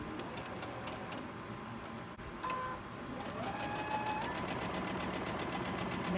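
A sewing machine stitching pinned cotton quilt block fabric strips, its needle making a steady rapid chatter that starts partway through, close and fairly quiet with no talk.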